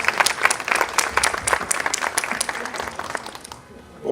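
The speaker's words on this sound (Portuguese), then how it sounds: "Igual lo recibimos con fuertes aplausos." An audience at a public service event applauds to welcome a university political science lecturer, with dense, steady clapping that carries on for about three and a half seconds before fading.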